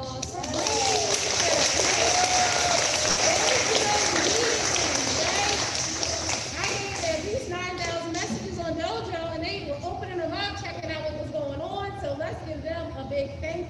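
Audience at a summer program closing ceremony applauding the parents, a dense, loud round of clapping that tapers off as children and adults chatter in the background.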